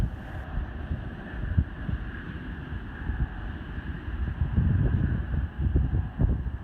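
Wind buffeting across a chilly open beach, a steady low rumbling roar with gusts that swell louder toward the end, with no voices.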